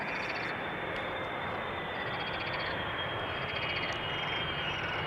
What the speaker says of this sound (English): KLM B762,